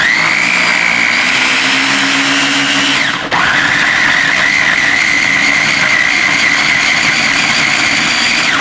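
An electric blender whirring loudly and steadily as it purées tomatoes for an Italian tomato sauce, briefly stopping for an instant and then spinning up again at full speed with no talk.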